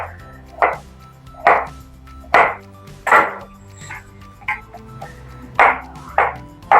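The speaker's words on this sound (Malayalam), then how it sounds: "ആദ്യം സ്ട്രോബെറിയാണ് കട്ട് ചെയ്യുന്നത്. ചെറുതായിട്ട് ഇങ്ങനെ നീളത്തിന് കട്ട് ചെയ്യാം." A knife slices strawberries lengthwise on a cutting board, about a dozen sharp, evenly spaced taps with short ringing clicks, close and clear with no one talking.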